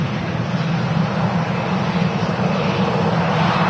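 A KLM Boeing 737-800 arriving from Amsterdam at Manchester Airport gives off a steady, loud broadband jet roar that holds evenly throughout without voices.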